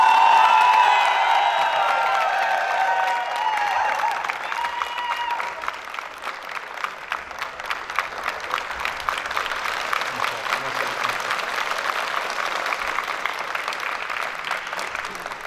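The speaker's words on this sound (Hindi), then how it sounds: "और नुमान साहब के लिए तालियां तो नहीं ना बजाएंगे आप?" Audience at a university commerce department welcome party for juniors and seniors in Multan applauds and cheers for Numan sahib, a dense sustained round of clapping with whoops and shouts, loud at first and continuing steadily, with some voices mixed in.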